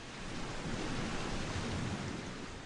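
Ocean waves wash onto a beach at early morning, a steady, loud roar of surf filling the whole short stretch without any voices.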